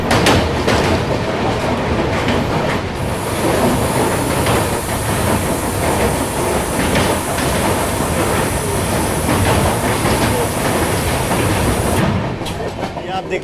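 The Goa Rajdhani Express rolls into Surat station with a loud, continuous rumble of wheels and clattering rail joints, heard from inside the train, with a high whine running through most of the passage.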